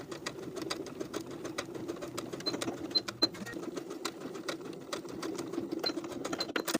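A domestic sewing machine top-stitches an elastic casing on sleepwear, its needle clattering in a fast, even rhythm with a steady motor hum underneath, close and continuous throughout.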